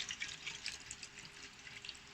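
Evaporated milk pours steadily into a bowl, a soft continuous trickle with faint splashes, quiet and close.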